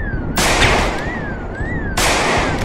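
Rifle fire in the zombie survival game Project Zomboid, two loud, close blasts about one and a half seconds apart over a rumbling game backdrop.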